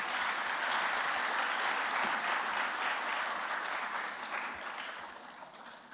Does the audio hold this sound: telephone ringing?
no